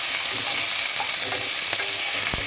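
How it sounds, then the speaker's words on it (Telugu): Drumstick pieces fry with cauliflower in a pan, producing a dense, steady, close sizzle with faint stirring knocks underneath and no speech. "ఇప్పుడు వీటిలోనే ములక్కాలు వేసుకోవాలండి కొంచెంసేపు వేపుకోవాలి ఇదిగోండి వేస్తున్నాను"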